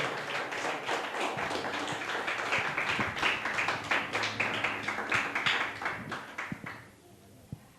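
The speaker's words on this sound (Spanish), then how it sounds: "Ese aplauso para el Señor." Sustained applause from a church congregation praising the Lord, a dense crackle of many hands clapping steadily for several seconds before thinning out and fading near the end.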